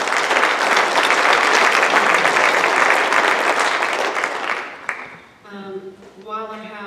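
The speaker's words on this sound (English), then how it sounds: "So if we could give them a round of applause" An audience at a school honor society induction ceremony claps in a loud, dense round of applause for about five seconds. The clapping fades out and a single person starts talking.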